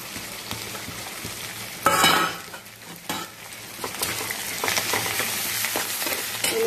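Green chilies, curry leaves and chopped onions sizzle steadily in oil in a frying pan, with a loud burst as they go in and scraping stirs and utensil clinks throughout.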